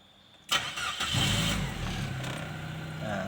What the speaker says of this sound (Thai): ติดเครื่องนะครับ